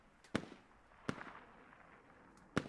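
Three sharp explosive thumps of mortar fire ring out in a military video game, spaced about a second apart, each with a short fading echo against a quiet background.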